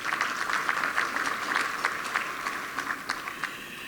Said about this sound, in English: So will you please give yourselves just another round of applause?